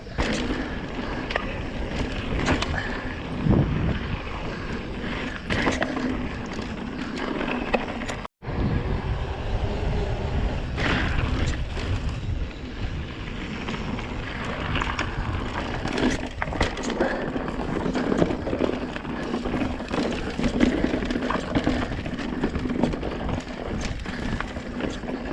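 A Yeti SB150 mountain bike is ridden along a dirt trail, with continuous rumbling tire noise, rattles and clatter over rough ground that stays loud and close for the whole stretch, briefly cutting out once.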